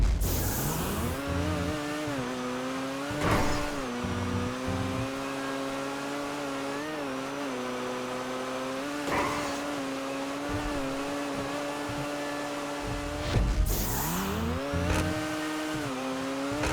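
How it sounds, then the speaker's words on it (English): A GTA 5 car engine in the video game revs hard at the redline, climbing and holding a steady whine, with sharp backfire bangs popping out three times over the continuous roar. "giving really stupid and unnatural engine sounds and backfiring as the cars accelerate"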